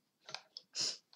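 A mouse click on the smile button in an online chess game, heard as a few faint, brief clicks and soft bursts close by, with no voices.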